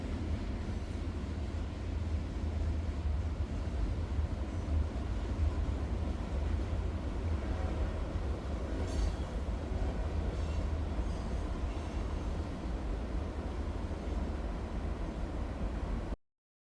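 A freight train rolls by on Norfolk Southern tracks in Pennsylvania, a loud continuous rumble and roar of wheels on rails with faint squeals, heard alone with no talk.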